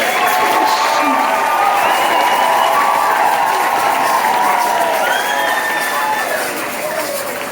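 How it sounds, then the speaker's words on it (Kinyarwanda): A church congregation at a large worship gathering claps together in a loud, dense wash of applause mixed with cheering and crowd voices, fading slightly toward the end. "Tugukomeye amashyi n'umwami wacu"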